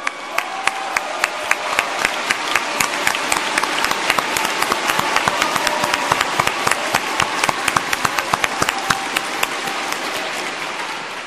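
Sustained applause from a large crowd at a Democratic Party national convention in Korea, dense clapping with sharp individual claps standing out, continuous and loud for the full stretch with no talk over it.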